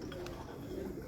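Soft cooing of pigeons sounds faintly against a low, steady background hum.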